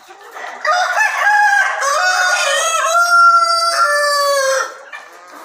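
A free-range village rooster crows once on a farm, a long loud cock-a-doodle-doo close by, rising and holding before trailing off.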